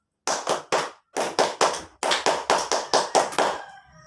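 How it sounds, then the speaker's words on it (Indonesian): A primary school class does a rhythmic spirit clap, crisp clear claps in short grouped bursts with brief pauses, ending in a quick run and a final clap. "Oke, tepuk semangatnya dong."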